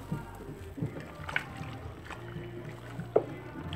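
Homemade liquid soap mixture is stirred by hand in water, giving faint, soft sloshing and swishing with a slightly louder splash near the end, heard at a low level.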